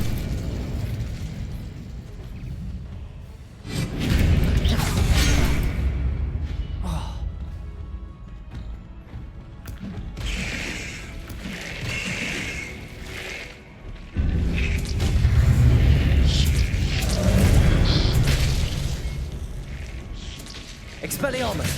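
Incendio fire spells cast in a Harry Potter video game, heavy roaring whooshes and explosive booms in long surging bursts separated by quieter gaps, with a voice speaking over parts of it.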